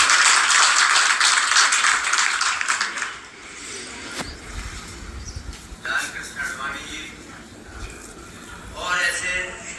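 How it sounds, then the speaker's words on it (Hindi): An audience at a BJP foundation day gathering applauds for the party's founding president, a dense burst of clapping for about three seconds that fades out as a man's speech continues. "हमारे ऐसे संस्थापक अध्यक्ष के लिए आप जरा ताली बजाकर"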